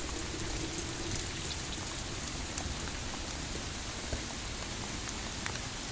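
Steady rain falling on a stormy day, a dense continuous hiss of drops on surfaces with occasional sharper drips, evenly loud throughout and with no voices.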